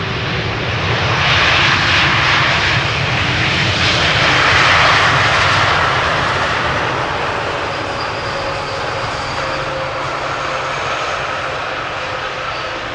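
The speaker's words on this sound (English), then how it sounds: "7879, Dreamliner arriving from Montreal" A Boeing 787-9 Dreamliner arrives at Amsterdam Schiphol's Polderbaan on a hot, sunny day, its engines a loud, steady roar that swells toward the middle of the pass and slowly eases off.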